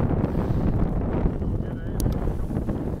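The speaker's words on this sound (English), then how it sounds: "That wind is horrible" Strong wind buffets the microphone on a Gulf fishing pier, a steady low roar with no gaps, while someone talks over it.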